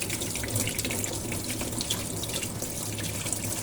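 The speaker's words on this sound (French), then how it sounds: "je vais mettre un petit peu d'eau" Tap water pours steadily into a washing machine, a constant close rushing stream with no talking over it.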